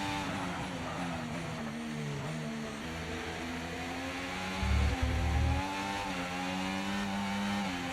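Formula 1 race car engines in the F1 24 racing game on PS5 Pro whine in a sustained, fairly quiet drone. The pitch dips and climbs through gear changes, with one brief heavier rumble midway.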